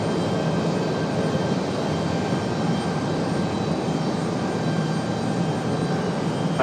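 A United airliner arriving at Raleigh Durham International Airport, its engine roar a steady, broad, loud drone holding nearly constant throughout with a faint high whine running over it.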